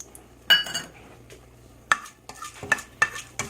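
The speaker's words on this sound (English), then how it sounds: "Now to the same pan I'm going to add fenugreek seeds and black peppercorns" Fenugreek seeds and black peppercorns frying in a pan for tomato rasam, heard as a handful of sharp metallic spoon clinks and scrapes against the pan over a faint, quiet sizzle.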